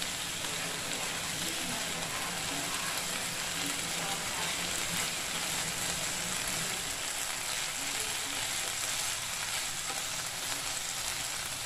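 Okra stir-fried with meat in a pan, a steady loud sizzle and crackle of frying that holds without a break throughout.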